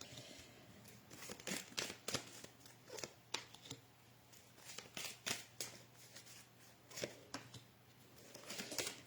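Oracle cards are shuffled by hand, giving soft, repeated papery riffles and slaps in irregular bursts, quiet and close over a faint low hum.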